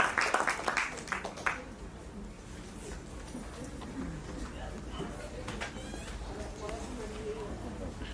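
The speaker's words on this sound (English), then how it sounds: "A big round of applause, ladies and gentlemen, for Ms. Shilpa Srinivasan." Audience applause at a Bharatanatyam arangetram dance recital, a dense burst of clapping in the opening seconds that quickly fades into a low, steady room murmur with scattered faint sounds.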